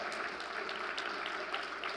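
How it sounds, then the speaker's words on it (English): An audience at a keynote conference claps steadily, a dense, even wash of many hands heard at moderate distance with no voices on top. "Clap for yourselves, you wonderful people."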